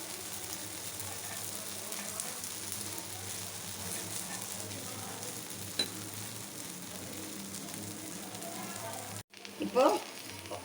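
Ada batter frying in oil on a pan, a steady close sizzle that runs throughout, with a brief clatter and a louder burst of frying near the end.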